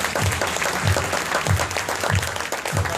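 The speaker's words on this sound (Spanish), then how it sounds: "Por eso un aplauso fuerte para ustedes." Audience at a Diamante Royal duplication workshop claps loudly and steadily, a dense close crowd applause filling the room with no talk over it.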